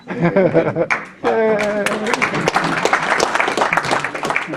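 Audience applause at a political candidate forum breaks out after a brief spoken phrase, a dense wash of clapping that carries steadily to the end.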